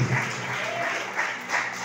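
Congregation clapping during an evening church service, a steady wash of applause lasting about two seconds at moderate level, with no clear talk over it.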